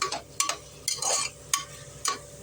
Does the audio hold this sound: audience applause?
no